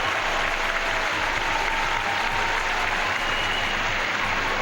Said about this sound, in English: More applause for third than first.